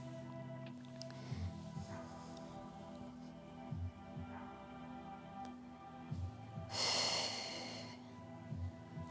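Slow, audible breathing in and out during gentle floor back stretches, soft exhales and a louder breathy puff midway over a low steady hum, no talking.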